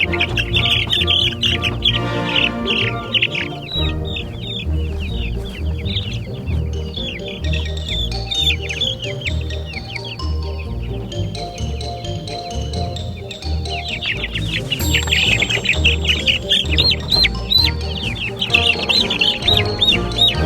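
A brooder of meat chickens, about fifteen birds, clucking and cheeping steadily and close by, dense overlapping chirps throughout with no talking.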